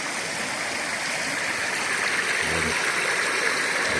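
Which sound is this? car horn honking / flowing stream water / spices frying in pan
flowing stream water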